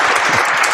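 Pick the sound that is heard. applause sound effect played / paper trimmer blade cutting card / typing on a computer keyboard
applause sound effect played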